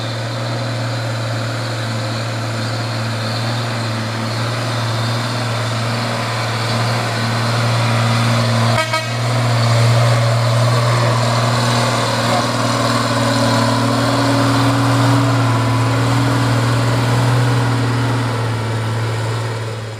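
Orange Fuso truck idling and grinding up a steep hill road on a hot afternoon, with a steady low engine drone throughout and a brief sharp interruption near the middle; close and continuous, no talk.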